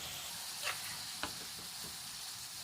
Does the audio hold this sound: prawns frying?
yes